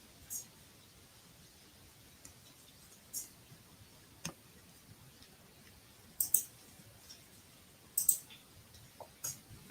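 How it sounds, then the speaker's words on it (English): A computer mouse clicks sporadically in a quiet room, with faint, sharp single and double clicks scattered irregularly over a low background hiss. "So I'm just clicking around, looking at a few things."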